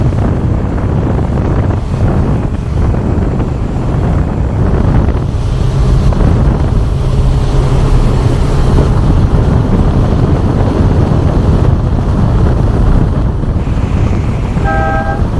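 A boat pushes through rapids on the Mahakam River, rushing, churning water and wind buffeting the microphone in a loud continuous roar with a low engine drone underneath.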